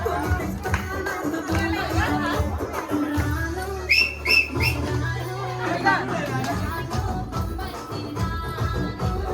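A few short, shrill whistles ring out at a lively celebration, cutting through loud crowd chatter and voices.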